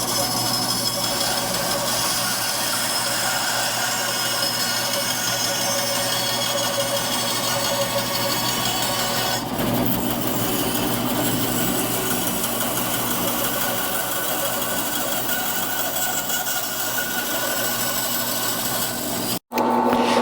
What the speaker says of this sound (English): Then you just take your ends, you cut them off on a bandsaw, and then sand them off so they're nice and smooth looking like that.